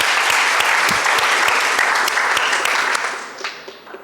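Audience applause for Strathmore School at a school debate, a loud, dense round of clapping from the hall that holds steady and then thins out and fades toward the end.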